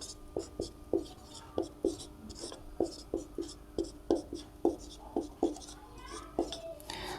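A pen scratches and taps notes onto paper during a class 12 maths lesson, with short, regular strokes roughly every half second, quiet and close, while a voice murmurs faintly underneath.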